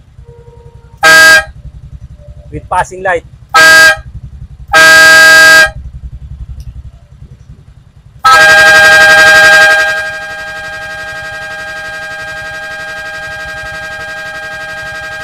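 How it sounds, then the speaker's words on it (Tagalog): Air horn fitted to a Honda Click 125 scooter blasts in several short loud honks, then one long sustained blare that holds steadily to the end over a constant low engine hum. "Gamit natin dito ay air horn."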